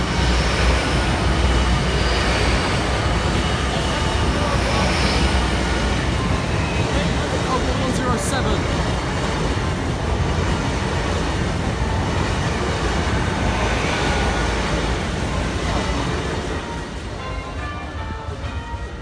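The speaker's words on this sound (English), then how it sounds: "next up the 1305 London North Eastern Railway service from Leeds to London King's Cross," A 10-coach London North Eastern Railway passenger train roars past close by at a level crossing for most of the clip, a loud sustained rumble with rattling wheels, fading slightly toward the end.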